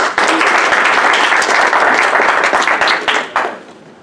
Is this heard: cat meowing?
no